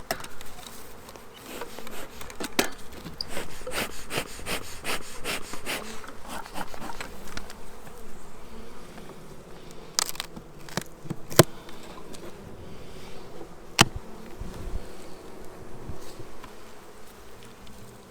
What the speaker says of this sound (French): 10 cadres d'abeilles.